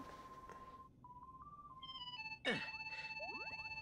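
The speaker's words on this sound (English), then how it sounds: "Sora, somebody's calling us on the gummy phone." The gummy phone rings in Kingdom Hearts 3: a bright electronic melody of short stepped tones, followed by a shimmering burst and quick rising chimes, clear and close.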